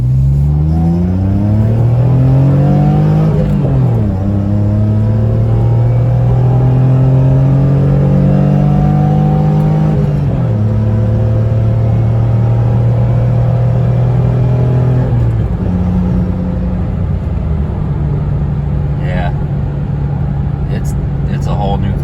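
A Geo Metro with an Evil Energy exhaust makes a full-throttle pull, its loud engine drone rising through the revs and dropping at several gear shifts before settling into a steady buzzing cruise.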